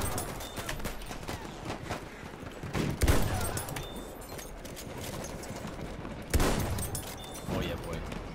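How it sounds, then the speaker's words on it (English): Gunfire rattles through a Battlefield 1 battle, bursts of machine gun fire and louder single shots over a constant rumble of combat noise, with a voice talking in the mix. "Machine gun, one of theirs."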